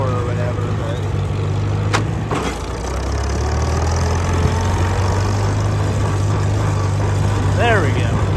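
A farm tractor runs steadily in road gear through hay country, its low engine drone and harmonic hum continuous and close throughout, with a brief knock and a faint squeak near the end.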